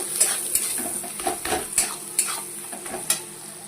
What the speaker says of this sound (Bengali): দিয়ে এবার পেঁয়াজটাকে আরেকটু ভাজবো।